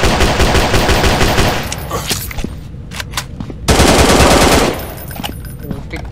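Rapid bursts of automatic gunfire from a weapon in the horror video game Jeff the Killer: Lost in the Nightmare, loud and close, in two dense volleys separated by a short gap with scattered single shots.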